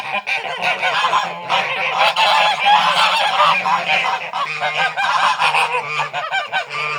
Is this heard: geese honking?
yes